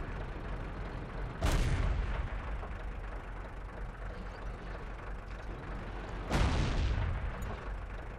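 Tank cannon fire in World of Tanks: two heavy booming shots several seconds apart, each a sharp loud blast over a continuous engine rumble.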